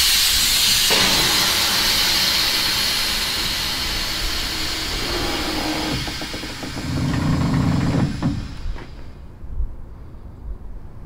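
Air suspension on a Mercedes-Benz W114 230.6 classic car releasing pressure as the car lowers, a loud sustained hiss that gradually tapers, with mechanical clunks and rumbling near the end as the body settles.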